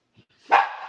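A single short dog bark, close and fairly loud, follows a faint brief sound, with no other noise around it.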